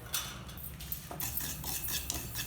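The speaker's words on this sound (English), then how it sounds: "first in an empty kadai, take 1 methi seeds and dry roast it" Methi seeds being dry roasted in an empty kadai, with a steady, quiet rattle of seeds and light metallic scraping and clinking of a utensil against the pan throughout.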